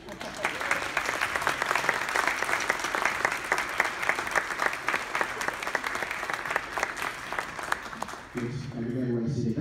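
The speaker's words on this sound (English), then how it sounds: "Give her a clap, please" Enthusiastic concert-hall clapping from the audience of a university band concert, loud and sustained for several seconds before a voice starts talking as the clapping continues underneath.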